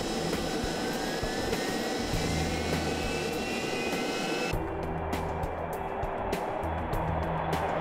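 Aircraft in flight during NASA full-scale flight testing, heard as a steady, loud engine roar that stays constant throughout, with a whining tone gliding across the middle and no talking.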